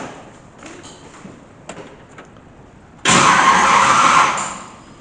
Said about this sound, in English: Now you just gotta turn that key a little bit more until you hear it start.